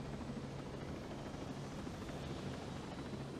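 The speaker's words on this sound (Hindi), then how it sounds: "मैंने हेलीकॉप्टर ले लिया" A helicopter in the video game Ghost Recon Breakpoint, a steady dense rotor and engine roar with a low thrumming pulse, loud and constant throughout with no talking.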